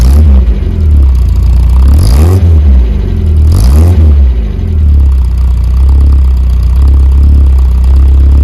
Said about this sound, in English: Let's get the vehicle started up. You can hear what it sounds like